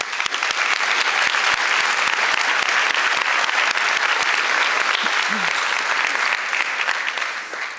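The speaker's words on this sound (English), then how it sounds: "Please join me in a round of applause for the musicians." Dense, sustained audience applause for orchestra musicians at a high school senior awards ceremony, a loud steady wash of many hands clapping that tapers off slightly at the end.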